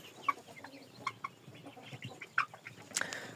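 Chickens of mixed breeds such as Liven chintz and Jersey Giant cluck in a farmyard, with a series of short, moderately near calls spaced irregularly and a sharper squawk near the end, no voices present.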